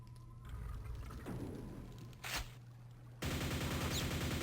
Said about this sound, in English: Back to the super nail gun.